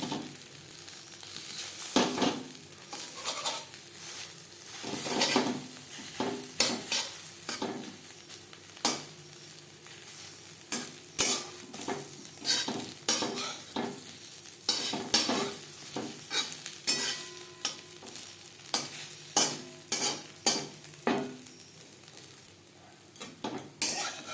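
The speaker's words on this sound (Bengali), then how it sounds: "এইভাবে খুলতির সাহায্যে আমি টুকরো করে নেব" A spatula chops an egg omelette into pieces in a frying pan, with repeated sharp metallic scrapes and taps over a soft, continuous sizzle, close and alone.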